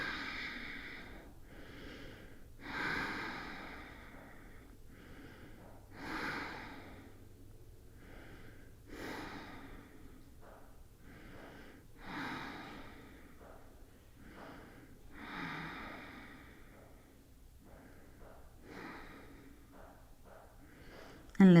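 Deep, slow breathing during a relaxing yoga pose after a class, with soft breaths rising and falling about every three seconds, close and fairly quiet, with no talking.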